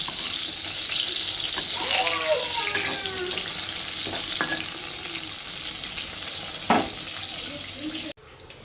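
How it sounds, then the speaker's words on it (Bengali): Steady oil sizzle of eggplant frying throughout, with occasional scrapes and light clatter of a utensil in the pan, close and continuous. "এদিকে বেগুন ভাজাটা প্রায় হয়েই এসেছে"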